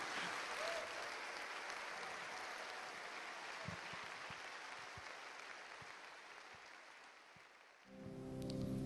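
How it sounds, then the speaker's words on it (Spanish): A church congregation claps together in a long, fairly faint wash of applause that slowly thins, with a few sharper claps standing out near the end. "Demos un aplauso al Rey."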